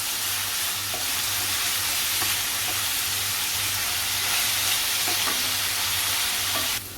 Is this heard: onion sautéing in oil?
yes